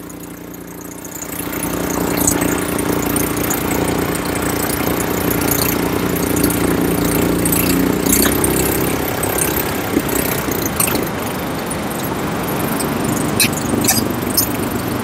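A petrol-powered weeder's small engine starts after about a second of quiet, then runs steadily and loudly with a constant idling drone and no talk over it.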